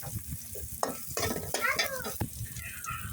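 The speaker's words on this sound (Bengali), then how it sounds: "বন্ধুরা আমি পেঁয়াজ কষিয়ে নিচ্ছি" Onions and small fish are stirred and fried in a pan with garlic paste, producing a close, crackling sizzle broken by scraping utensil strokes and light clatter against the pan.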